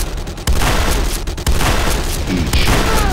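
Heavy booms from a Nod structure blowing up in the game Renegade, three loud blasts at roughly one-second intervals over a continuous rumbling battle din.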